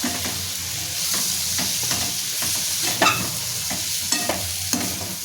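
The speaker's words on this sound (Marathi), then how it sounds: "हे मी मिक्स करून घेते" Vegetables stirred with sesame powder in a pan over a low sizzle, with repeated scraping strokes of the spoon against the pan, fairly close and steady.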